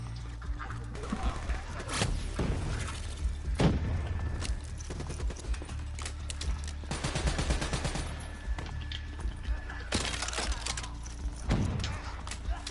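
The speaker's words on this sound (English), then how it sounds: "Fireflies, a swarm of incendiary nanobots. Let them loose and see what they can do." A video game's Firefly swarm of incendiary nanobots let loose: dense crackling, rapid popping bursts that rise and fall in clusters across the clip, close and fairly loud, with occasional heavier thumps.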